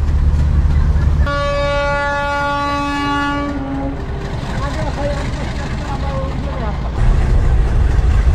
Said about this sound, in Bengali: পুকুরিয়া থেকে আমাদের ট্রেন ছেড়ে গেল